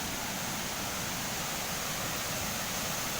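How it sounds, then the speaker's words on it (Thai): A single-tier waterfall at Saphan Lao in Thong Pha Phum, Kanchanaburi, gives a steady, dense rush of falling water that stays broad and even throughout, with no voices over it. "เป็นน้ำตกชั้นเดียวนะครับ"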